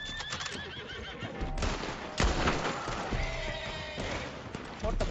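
Gunfire in Red Dead Redemption 2: a few sharp shots ring out among horse whinnies and background game ambience, with a voice talking at times.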